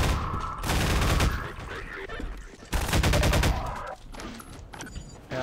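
Shotgun fire in the video game Half-Life 2 comes as two loud, dense bursts of blasts, each about a second long, separated by a short lull with a quieter rumble trailing after.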